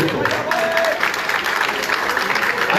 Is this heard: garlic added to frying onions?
no